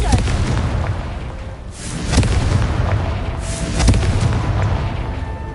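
Confringo spell explosions in the Hogwarts Legacy video game: two heavy, booming blasts a couple of seconds apart over a rumbling, noisy game background.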